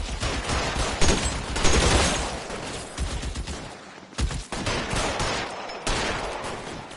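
Dense, continuous gunfire from a shootout in the L.A. Noire video game, rapid overlapping shots and bursts filling the whole stretch, loud and close with brief gaps near the middle and end.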